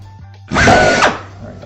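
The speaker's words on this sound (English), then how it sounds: "That's getting ready to drill." A power drill bores into an airplane turtle deck panel during a home aircraft build, giving one loud, close whir of about three-quarters of a second after a faint background hum.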